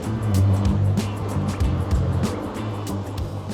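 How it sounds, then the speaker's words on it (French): A car drives along with a low engine hum and rumbling road noise, punctuated by repeated bumps and thuds, close and fairly loud, with no voices. "On va faire la course avec la voiture."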